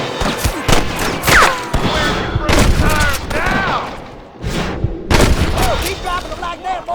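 Gunfire in the Red Dead Redemption video game: dense volleys of rifle and pistol shots crack out loud and close, mixed with shouting voices and bursts of battle noise.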